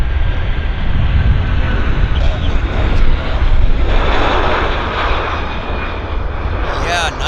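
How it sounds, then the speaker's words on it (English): A passenger airliner takes off from Vancouver International Airport, its engine roar loud and continuous, swelling to a broad rumble midway and holding steady as the plane climbs, with people talking faintly in the background. "Still a very nice takeoff."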